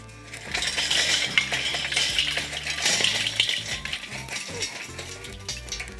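Hot charcoal clatters and rattles as it is poured into a kettle grill, a tumbling clinking cascade that swells and tapers over several seconds.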